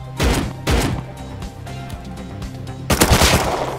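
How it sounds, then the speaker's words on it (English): Shotgun blasts fired at a ceiling in the survival game Rust: two sharp booming shots in quick succession, a short lull with a low rumble, then a third heavy blast, loud and close. "I could use this to shoot the ceiling."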